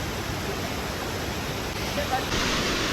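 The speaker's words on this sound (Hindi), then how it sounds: "देखो तो सामने ऊपर से ना इतना खतरनाक वाला वाटरफॉल आ रहा है" Waterfall pouring down beside the Kedarnath trekking path in monsoon rain, a loud steady broadband rush that fills the whole stretch and swells slightly toward the end.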